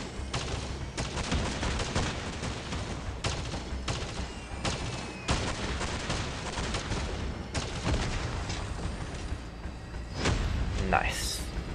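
Rapid weapon fire in the vehicle combat game Crossout Mobile, a steady stream of shots over continuous battle noise with bursts of impacts and explosions, talking running over it throughout.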